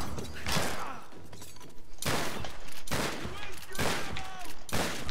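Heavy gunfire in the game Tomb Raider, loud overlapping volleys and rapid bursts coming in repeated waves, close and intense, with talk mixed in.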